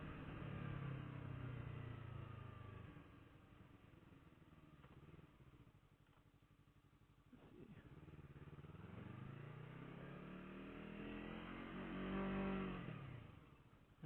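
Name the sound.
Yamaha R3 motorcycle riding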